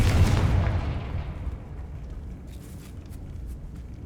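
An explosive Confringo spell blast in Hogwarts Legacy, a loud booming burst at the start that decays into a rumbling, crackling tail over several seconds.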